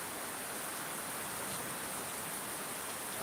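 Heavy rain falls in a continuous, dense hiss that stays level and unbroken from start to finish.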